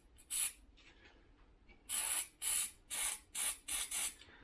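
Fuel is sprayed into a vintage Briggs engine in short hissing bursts, one single spray and then a run of five or six quick spritzes close by, with quiet gaps between.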